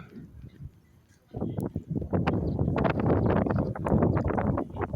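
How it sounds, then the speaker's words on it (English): Gusty wind blows outdoors near weaver birds building nests, a loud broadband rush that starts quietly and then surges and stays strong in buffeting waves across the clip. "It's windy there, it's windy."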